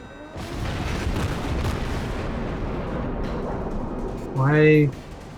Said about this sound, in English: The Clemson is actually opening up fire.